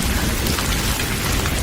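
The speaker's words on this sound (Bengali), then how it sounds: "এই বৃষ্টি কখন যে থামবে বলো তো" Heavy downpour during a Kalbaishakhi storm at night at a roadside tea stall. A dense, constant roar of rain fills the whole stretch, close and loud, with no voices.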